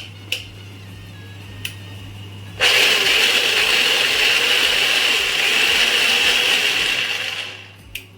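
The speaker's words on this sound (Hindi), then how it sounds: "संगवारी हो मैं मिक्सी में चटनी पीसा था।" A mixer grinder grinding tomato chutney whirs loudly and steadily for about five seconds after a few clicks, then winds down, over a constant low hum.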